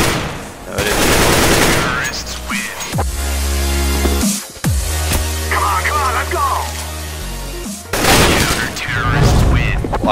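Counter-Strike: Global Offensive gunfire, dense bursts of rapid shots and booming blasts mixed with game effects and tonal sounds, with someone talking over much of it.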